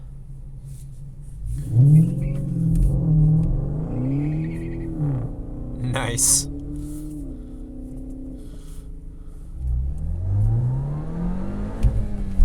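A 2023 VW Golf R's turbocharged engine pulls hard on a race track, rising and falling revs with gear shifts heard from inside the cabin, loud and continuous, with one brief spoken word.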